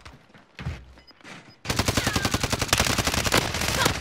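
Rapid automatic gunfire in Call of Duty: Modern Warfare multiplayer, a few scattered shots at first, then a loud, sustained burst of dense rattling fire filling the rest of the stretch.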